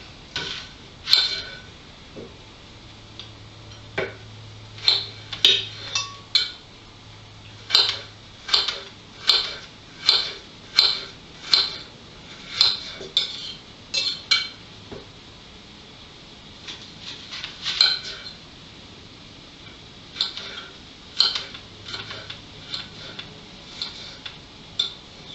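An onion being chopped with a knife on a cutting board, crisp close taps in irregular bursts with short pauses between runs, repeated many times over a quiet kitchen background.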